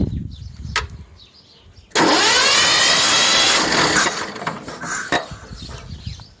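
A Shifeng 160 mini tractor's small diesel engine, after fuel injector nozzle replacement, abruptly kicks on with a loud, steady roar and a rising whine, then settles lower as scattered clunks sound nearby.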